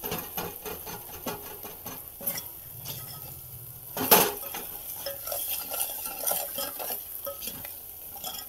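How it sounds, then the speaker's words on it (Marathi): Spices and curry leaves fry in oil in a village kitchen, a busy crackling sizzle with frequent spoon stirring and clinks against the pan, one louder scrape midway. "बघा कसं फ्राय व्हायला लागलंय, मस्त वास पण यायला लागलाय"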